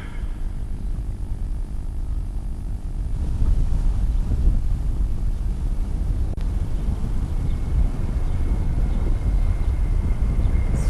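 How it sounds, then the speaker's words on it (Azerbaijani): Su-25 attack jets flying over a military parade in Azerbaijan produce a low, broad rumble that swells louder after a few seconds and holds steadily, mixed with wind noise. "Su-25 tipli təyyarələr qrupuna Azərbaycan bayrağı ordenli Polkovnik leytenant Nambik İslamzadə rəhbərlik edir"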